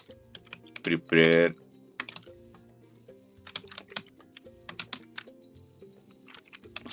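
Java code typed on a computer keyboard, quick irregular bursts of crisp key clicks close by, with a brief spoken word near the start.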